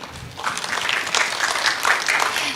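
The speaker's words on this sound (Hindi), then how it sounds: "एक बार फिर से जोरदार तालियां हो जाए सेरिंग सांदुप के लिए" Audience at a televised Arunachal Idol singing contest applauds singer Tsering Sandup, a dense, steady wash of clapping filling the short stretch from start to finish with a few faint voices mixed in.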